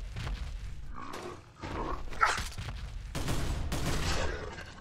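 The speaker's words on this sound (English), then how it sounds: "they make a real unsettling popping noise when they, free themselves from whatever is holding them in sway" Unsettling pops and bursts as enemies break free in modded Fallout 4, an irregular cluster of loud popping and crackling amid roaring, gunfire-like game noise.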